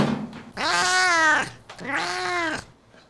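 A cat gives two long, drawn-out meows in quick succession, close and loud, each rising and falling in a yowling caterwaul.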